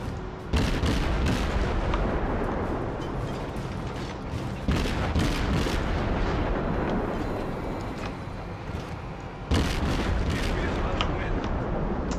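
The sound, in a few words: naval guns firing at destroyer in World of Warships video game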